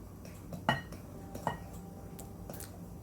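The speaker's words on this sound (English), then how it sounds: "And stir it as you're putting it in with the spoon." A spoon working buttermilk into cornbread batter in a bowl, with a few distinct clinks and knocks against the dish over a quiet, soft background.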